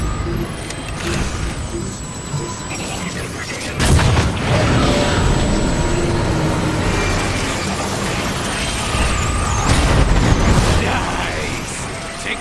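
Explosions and heavy gunfire from the War for Cybertron video game, with Decepticons attacking anti-air guns, making a dense continuous barrage with loud booms near 4 and 10 seconds.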